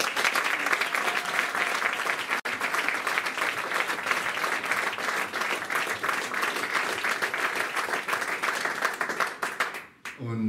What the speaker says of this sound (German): Vielleicht ein extra Applaus für Bluegrass in Basel.